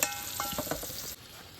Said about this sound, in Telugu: వంటకి పోపులు రెడీ అయిపోయిందండి. తాలింపు పెట్టేసాము.